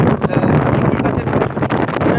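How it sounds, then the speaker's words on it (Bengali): Strong wind gusts buffet the microphone at Shankarpur sea beach in the evening, a loud, continuous broadband roar that rises and falls with no break. "এই মুহূর্তে দেখতে পাচ্ছ প্রচণ্ড হাওয়া বইছে"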